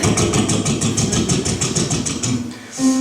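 A voice imitates the exhaust of an old Volkswagen Beetle, a rapid, pulsing engine-like putter that is loud and close, trailing off briefly near the end.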